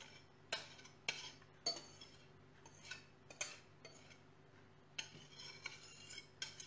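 Spatula or spoon scraping peanut butter banana bread batter from a mixing bowl, a series of short close scrapes and light clinks in an irregular rhythm over a steady low hum.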